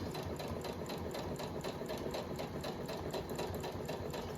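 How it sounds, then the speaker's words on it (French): A sewing machine runs in a steady, even rhythm, stitching a topstitched rib seam close to the edge of a workwear jacket, fairly quiet and unbroken, with no talking. "on vient tout doucement coudre notre piqûre nervure au plus près"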